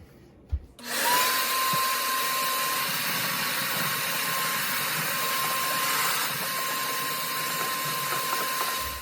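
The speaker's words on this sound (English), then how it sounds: "let's give it another vacuum. Get that water out of there" A loud, steady wet vacuum roar switches on after a brief clunk and runs continuously, sucking standing water from a dishwasher that won't drain, with a faint high whine and occasional gurgling rattles underneath.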